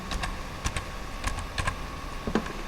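Quick, scattered keystrokes on a computer keyboard as a file name is entered while saving a document as a PDF. The taps come in short irregular bursts, close and clear, with no voices.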